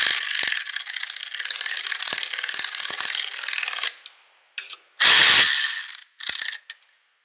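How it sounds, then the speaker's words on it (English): Hand ratchet turning engine bolts during assembly of a Honda GX390, a steady run of fast close clicks for about four seconds, then a few shorter bursts of ratcheting with brief pauses. "I'm just going to use the ratchet here"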